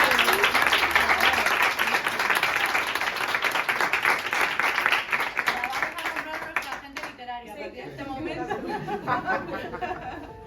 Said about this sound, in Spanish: así que un aplauso para ellas.